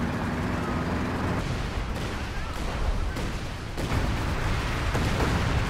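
Land Mattress rocket artillery firing in a World War II strategy video game match, a dense, loud rumble of launches and blasts rolling continuously with several sharp bursts.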